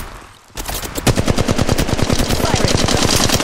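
Automatic weapon fire in the battle royale shooter Apex Legends: a dense, loud burst of rapid evenly spaced shots that starts after a short lull and runs continuously to the end.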